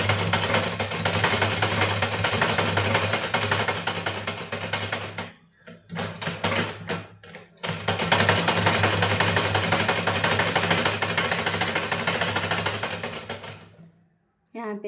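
A sewing machine stitches piping onto a blouse sleeve with a loud, fast, steady whirr, breaks into short stop-start bursts midway, then runs steadily again before halting near the end.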